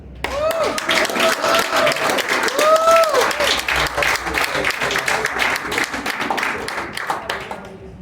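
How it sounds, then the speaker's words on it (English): Audience applause for teachers at an education summit reception in Jamaica, steady dense clapping filling the room for several seconds, with a few voices and cheers mixed in before it tapers off. "Now that deserves another round of applause."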